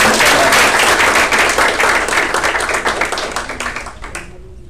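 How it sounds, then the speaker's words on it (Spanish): A burst of applause from a conference audience rings out strongly, then thins and fades over a few seconds. "Bien, un aplauso"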